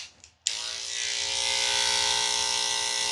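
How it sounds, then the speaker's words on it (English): Electric dog clippers fitted with a 7 blade shave a matted coat, starting abruptly after a brief quiet moment and then holding a steady, close, high-pitched buzz without pause. "we're going to do a second shave all around the body."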